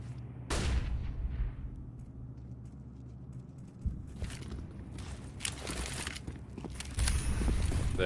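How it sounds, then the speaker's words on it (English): Smoke grenades are thrown and burst in Counter-Strike on the Train map during a professional match. Loud hissing, crackling bursts come in several separate waves over a steady game rumble, with no speech. "There you go, the smoke grenades."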